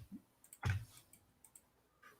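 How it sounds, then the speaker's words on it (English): Scattered keystrokes on a computer keyboard, one louder thump among several light, irregular clicks, close and quiet with no talking. "let me type that in"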